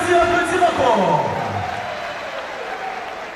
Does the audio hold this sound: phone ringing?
no